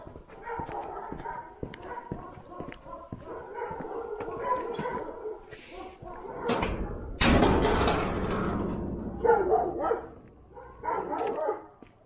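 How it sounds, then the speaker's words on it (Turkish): Shepherd dogs barking and snarling in a close scuffle at night, with rapid yelps and growls building to a loud burst of aggressive noise before trailing off. "Köpekler boğuşuyor şimdi arkadaşlar."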